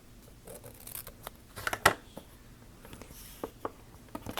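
Scissors trimming a strip of decorative tape while decorating a Filofax, a few small sharp snips and rustles of paper and tape, close and quiet, no talk.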